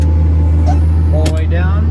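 A tractor idles with a steady low engine hum while lowering a planter into the field soil, a few faint clanks and hydraulic whines rising briefly over the drone.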